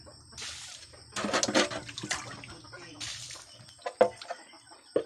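Water splashes and pours in uneven bursts, with a few sharp knocks and some background voices.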